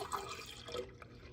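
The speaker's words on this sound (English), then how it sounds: "So we're going to put 4 1/4 cups of milk right here. I'm going to pour it in." Milk is poured into a container as homemade fertilizer for vegetable plants, giving a brief, soft liquid splash and gurgle at close range with no talking.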